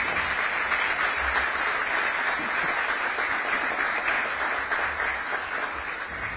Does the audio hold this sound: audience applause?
yes